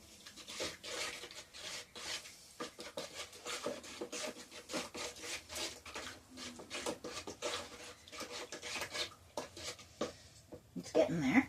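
Plaster being mixed by hand in a bowl, a steady run of close scraping and rubbing strokes that repeat unevenly throughout, with a few louder knocks near the end.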